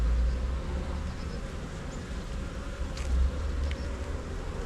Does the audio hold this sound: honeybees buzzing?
yes